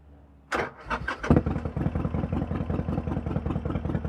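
A 2013 Harley-Davidson Sportster 1200 Custom with Vance & Hines Short Shots exhaust cranks over and fires up, catching with a loud bark and settling into a lumpy, rapid V-twin idle pulse close by.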